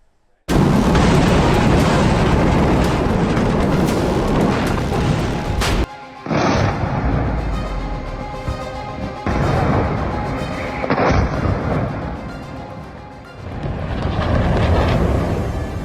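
Missile strikes exploding in Tel Aviv and Haifa, Israel: a loud, continuous roar of blasts with several sharp booming bursts and brief lulls, dense and close throughout.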